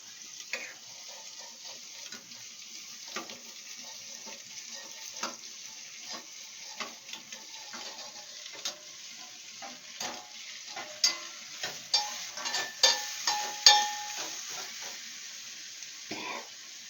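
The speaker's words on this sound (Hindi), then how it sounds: "कुकर में ही छमकूंगी भाई मैं।" Hot oil tempering sizzles and crackles in a pressure cooker, soft at first and building to louder pops near the end, with faint stirring clicks.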